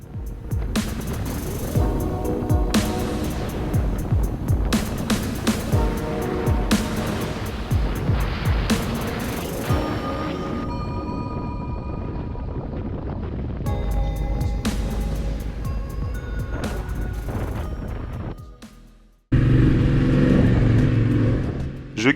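Motorcycle ridden on a Massif Central road trip in heavy rain, engine droning steadily with gear changes and shifting pitch as another motorcyclist passes, then a loud burst of wind and engine roar toward the end.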